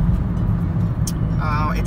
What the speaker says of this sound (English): Driving Toyota Prius.